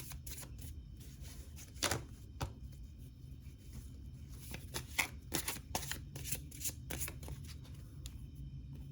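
Osho tarot cards shuffled and flipped over by hand, a run of crisp papery slaps and riffles at close range against a quiet room, with several sharper card snaps spaced irregularly through the handling.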